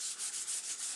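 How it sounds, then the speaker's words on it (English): A super lightweight sanding pad is rubbed over a vintage sign to burnish it, giving a steady, close, soft abrasive swishing in short repeated strokes with no talking. "take a super lightweight sanding pad or whatever you have and just kind of burnish it in"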